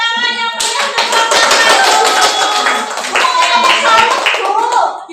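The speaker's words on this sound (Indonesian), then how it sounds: "Berikan tepuk tangan yang meriah untuk" Students in a microteaching class give a lively round of clapping for a presenting group, close and loud, lasting about five seconds. A voice is heard speaking briefly at the start.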